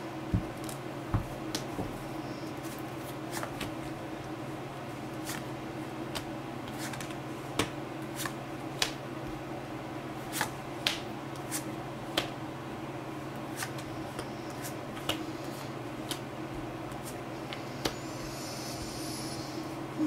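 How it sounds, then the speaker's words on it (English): Tarot cards being cut and shuffled, with soft repeated card snaps and riffle ticks scattered over a steady low room hum, quiet and close, with no talking. "they're saying to go ahead and cut the cards. So I will do that."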